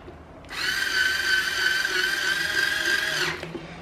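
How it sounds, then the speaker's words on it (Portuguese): A weak cordless power screwdriver drives a Phillips screw into the motor cover of a Mondial VTX-40 Super Turbo fan, giving one close, steady whirring run of about three seconds that starts and stops abruptly. "Eu vou usar uma parafusadeira."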